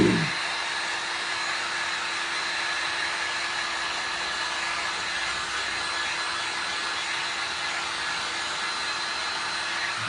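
A heat tool drying glass and resin art blows a steady, loud airflow for the whole stretch, a constant hiss with a faint hum and no talking.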